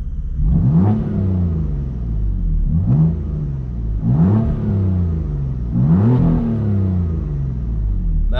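A BMW engine revs repeatedly with the exhaust flap open, four deep rising blips with a loud, throaty exhaust rumble between them, close by and without talk.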